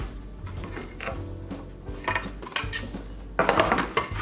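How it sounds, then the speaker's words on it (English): Metal baking tray grabbed in a kitchen, with clattering and scraping of pans and utensils, a few sharper metallic knocks and a louder rattle near the end. "I'm going to grab a baking tray"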